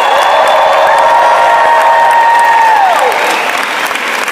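A large audience at an Isagenix celebration event bursts into loud, sustained applause with cheering and whoops. The clapping stays dense and continuous throughout, with a shrill whistle-like tone sliding down partway through.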